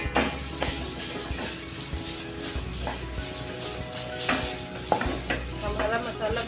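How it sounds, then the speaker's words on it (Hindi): Masala for parwal kalonji being roasted and stirred in a pan, with close, steady sizzling broken by repeated spatula scrapes and clinks at irregular intervals. "हमारा मसाला भून चुका है"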